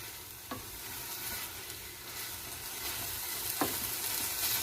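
Sofrito sizzling in a frying pan with continuous dense crackle, close and steady, with a couple of brief scraping stirs of a utensil against the pan.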